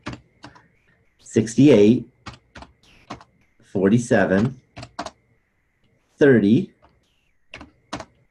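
Calculator keys tapped in short clustered bursts while entering numbers during a statistics lesson, a man reading the figures aloud between the clicks.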